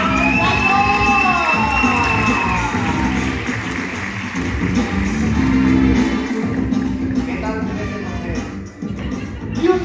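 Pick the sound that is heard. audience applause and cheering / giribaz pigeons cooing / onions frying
audience applause and cheering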